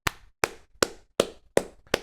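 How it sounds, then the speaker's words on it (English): Hands clap out a steady beat, six sharp close claps spaced evenly about every 0.4 seconds, with silence between and no talk. "I was clapping my hands because like I'm trying, like that's the beat"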